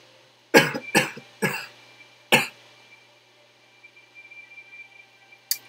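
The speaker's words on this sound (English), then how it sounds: "That's as in I'm coughing a lot right now." Several sharp coughs from one person, four close together in quick succession and then a last isolated one after a pause, against a quiet room background.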